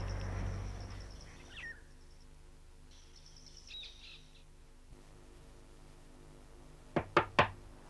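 Three quick, sharp knocks strike a door near the end after a long quiet stretch, with faint bird chirps heard earlier.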